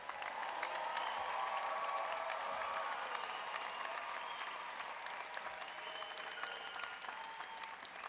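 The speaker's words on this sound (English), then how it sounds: "How about a round of applause for our graduates?" A commencement audience at the University of Northern Colorado's graduate ceremony applauds its graduates, a broad, sustained wash of clapping from a large crowd heard at a distance, fading slightly toward the end.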